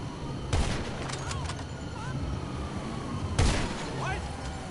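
Two sharp gunshots from a video game, the first near half a second and the second about three seconds later, each a loud broadband crack over steady game background noise.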